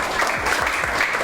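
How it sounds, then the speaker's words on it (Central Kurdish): Schoolchildren in a Kurdish classroom clap together for two classmates, a brisk, close burst of many small hands under a faint murmur of voices. "یەک چەپڵە بۆ دو هاوڕێمان"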